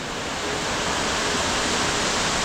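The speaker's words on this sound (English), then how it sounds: "Look how sick this second waterfall is." Steady, loud rushing roar of a waterfall in Bali, a dense continuous hiss of falling water with no pauses.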